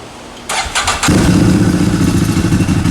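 A CFMOTO UFORCE 1000 side-by-side engine cranks briefly, then catches and settles into a steady loud idle after an oil change, close by with no talking.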